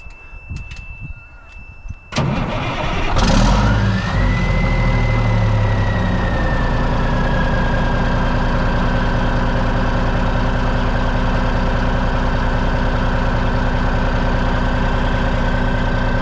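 A truck engine cranks and catches with a sharp burst, then settles into a loud, steady, low idle with a rising whine that levels off and runs continuously to the end.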